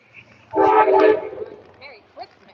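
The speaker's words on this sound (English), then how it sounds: "you can hear the train blowing basically all through town" A passing train sounds its horn through a quaint little town, a loud sustained blast of about a second with a sharp onset that fades into softer tonal fragments and faint background noise.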